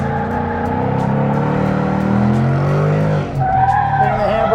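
A Ford Mustang's tires squeal in a sustained, loud skid during a handbrake drift on a figure-eight, with engine roar underneath and a brief dip before the squeal resumes at a higher pitch.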